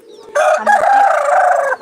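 A loud, close call from caged chickens rings out in one sustained, strained burst after a brief quiet start, more a crowing squawk than soft clucking.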